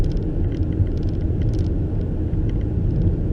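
A car drives down the road in traffic, giving a steady, close engine and road rumble that continues without a break and has no talk over it.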